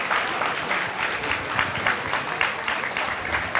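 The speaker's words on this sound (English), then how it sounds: "Give the teachers big round of applause" An audience at a school annual day applauds the teachers, steady dense clapping filling the room at an even level throughout with no break.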